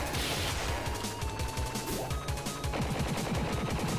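Rapid gunfire in Noitu Love 2 Devolution, dense bursts of game shots layered over a busy, loud music-and-effects backdrop with no talk.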